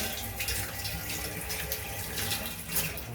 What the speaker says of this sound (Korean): 지금 아이워시도 잘 나오고 있고요.